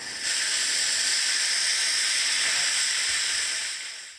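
Steady, loud hiss of steam venting from a special effects steam machine, starting abruptly and holding even for several seconds before tapering off, heard alone without voices.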